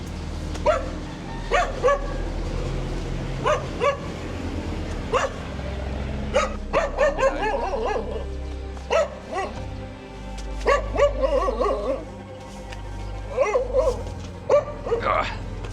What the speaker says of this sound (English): It's a mean looking dog.